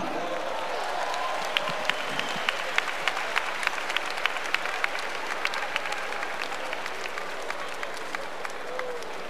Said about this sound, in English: Rattlers, please join me in another round of applause